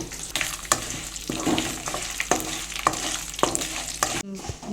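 Curry leaves and dried red chillies fry in hot oil, giving a continuous close sizzle broken by repeated rhythmic scrapes of a spoon stirring the pan, moderately loud with no talking.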